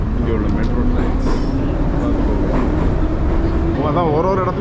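Old-style metro train of the Tashkent metro running, a loud continuous rumble with rail noise throughout, with people talking over it and a brief tonal squeal near the end.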